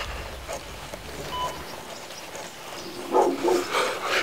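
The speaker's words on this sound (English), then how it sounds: "Shit, dog!" A dog barks a few times at a moderate distance near a house at night, short rough bursts standing out over a quiet outdoor background.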